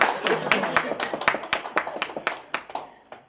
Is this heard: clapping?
yes